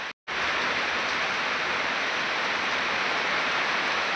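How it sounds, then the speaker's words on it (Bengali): Steady rain pours down with wind gusting through it, a dense, continuous hiss that stays loud and even after a brief moment of silence at the very start. "বন্ধুরা আমাদের এখানে কিন্তু বৃষ্টি হচ্ছে, সঙ্গে হাওয়া হচ্ছে।"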